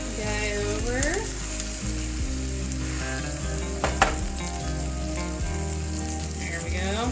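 A patty melt sizzles steadily in a diner-style pan just after being flipped, with a loud, continuous frying hiss and a brief clatter partway through.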